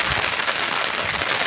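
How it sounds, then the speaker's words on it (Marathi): Steady rain falls in a dense, even hiss of drops close by, with no pauses or talking over the short stretch. "पाऊस चालू आहे"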